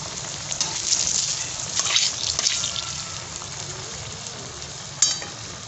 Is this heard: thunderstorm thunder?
no